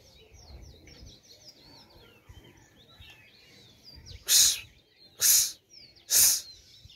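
Pigeons coo softly while small birds chirp and tweet in a quiet setting, followed by three loud, sharp bursts of sound spaced about a second apart near the end.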